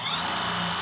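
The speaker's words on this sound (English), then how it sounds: "we're going to drill through the liner, just in the center of that hole" A power drill bores through the plastic wheel well liner of a 2019-or-later Ram 2500/3500 truck, a steady high-pitched whine held evenly for a brief moment, close and alone.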